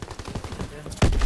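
Rapid gunfire from a Call of Duty: WWII match, a quick string of shots for about a second before a louder, heavier blast lands at the end.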